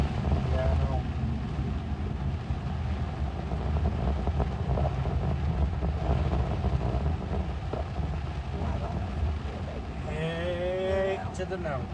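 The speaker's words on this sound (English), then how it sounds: "The wind is still picking up real bad." Strong storm wind buffets a vehicle and roars across the microphone in a constant heavy rumble, with voices talking near the end.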